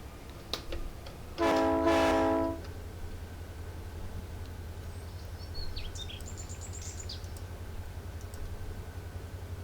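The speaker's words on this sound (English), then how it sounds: "Trains make lots of noise." Inside a rail yard, a train horn blasts loudly for about a second over a constant low rumble of idling locomotives, with faint chirps from birds later on.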